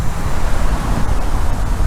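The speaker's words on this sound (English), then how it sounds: "It is very windy today, and we all know wind is the ultimate enemy of the YouTuber." Strong wind blows steadily outdoors, a loud, constant rumbling roar buffeting the microphone without a break.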